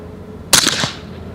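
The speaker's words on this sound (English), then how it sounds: "12 rounds, suppressed. Let's see how she does." A single suppressed HK Mk 23 .45 ACP pistol shot at a shooting range, one sharp muffled crack with a short tail, loud and close against a quiet background.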